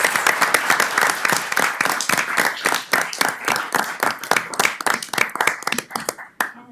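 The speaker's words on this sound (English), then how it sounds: "let's give a big round of applause to our young scientists" An audience applauds young scientists with a water and wastewater science award at a utility board meeting, a dense burst of many hands clapping that continues steadily for several seconds, close and loud, then tapers off.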